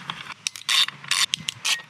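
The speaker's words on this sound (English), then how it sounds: "Okay, now we can finally get that bolt off." A ratchet loosens a bolt on the airbox of a Honda CB1000R motorcycle, giving close, loud bursts of rapid clicking with short pauses between strokes.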